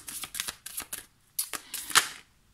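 Oracle cards shuffled and drawn for a reading, a series of short, close, crisp riffling and snapping bursts separated by brief pauses, fairly quiet.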